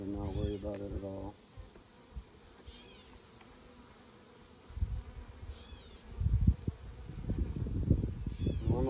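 Honeybees buzz during a defensive hive's inspection while the beekeeper hunts for the queen, a quiet intermittent drone rising in brief swells, with rustling, handling noise and a voice talking in between.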